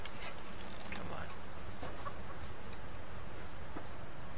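A chicken clucks faintly and in short bursts in the survival video game Subsistence, over a constant hiss of game ambience.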